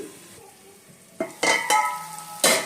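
Chopped tomatoes cook with ginger garlic paste in a pan, a soft low sizzle broken by several sharp spoon scrapes and clinks against the pan, close and alone with no talk.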